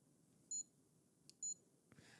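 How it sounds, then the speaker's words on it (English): An electronic device gives two short, bright beeps about a second apart, faint in a quiet room, followed by a soft click and light background noise. "It's beeping."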